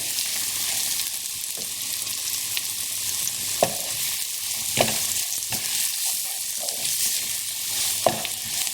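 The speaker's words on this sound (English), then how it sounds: "Now give this a good stir." Vegetable curry with coriander and cumin powder being stirred in a sizzling pan, a steady fry hiss broken by occasional scraping clicks of the spoon, close and moderately loud, no voices.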